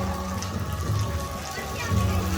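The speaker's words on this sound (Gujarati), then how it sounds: "વરસાદ બહુ આવે છે" Rain falls steadily as a dense, even hiss, with faint drips and low rumbling underneath the whole time.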